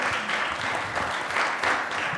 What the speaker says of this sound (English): Excellent, and applause for them because they got the right question